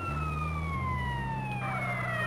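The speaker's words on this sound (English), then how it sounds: "I'm turning off the sirens now" Ambulance sirens wail in GTA San Andreas, a steady electronic tone sweeping in pitch over a low engine drone, loud and continuous with no voices.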